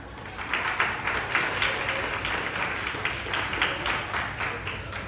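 Audience applause at a Topaz celebration speech, a sustained wash of many hands clapping at moderate distance, with faint crowd murmur beneath and no clear voices.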